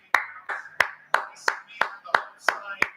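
Fans clap in the stands at San Siro during an AC Milan versus Verona match: about eight sharp, evenly spaced claps close by, with voices faintly mixed in.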